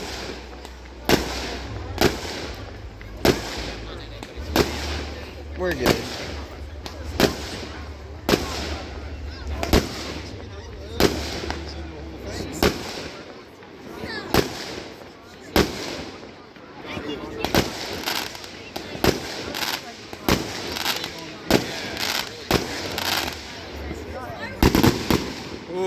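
Fireworks at a firework show: a long run of loud, sharp bangs and crackling bursts, some near and some farther off, repeating every second or two over a rumbling haze, with people talking now and then.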